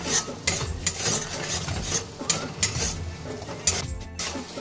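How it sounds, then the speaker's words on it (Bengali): Spice paste with turmeric and salt fries in oil for a crab bhuna curry, with a spoon scraping and clattering against the pan in quick, repeated strokes over a soft sizzle, all close by. "মশলাটা খুব সুন্দরভাবে আমি কষিয়ে নিলাম।"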